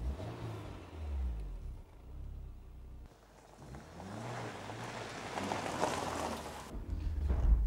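A car accelerating hard while being driven fast, with engine revs rising and falling in sweeping pitch changes amid steady road and wind noise, fairly close and continuous.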